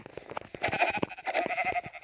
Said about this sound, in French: il y a des moutons. Deux moutons, les amis.